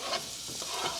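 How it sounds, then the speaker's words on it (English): Garlic and onion sizzle in hot olive oil in a carbon steel pan, a close, steady hiss with a light stirring scrape, no talking. "You ever just put garlic in hot oil"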